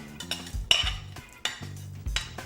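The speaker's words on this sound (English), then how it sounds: "we are gonna add 2 cups of chopped green pepper and onion. So we're gonna throw that in here" Frozen chopped green pepper and onion tipped into a soup pot, with a few clattering scrapes and knocks of a utensil against the pot in irregular bursts, close by and moderately loud, no talk.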